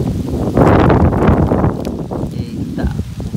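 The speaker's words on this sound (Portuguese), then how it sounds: "o vento hoje está forte" Strong wind at the Parque Bom Jardim cemetery in Fortaleza, Ceará, buffeting the microphone outdoors in loud, rough gusts that swell and ease over a few seconds.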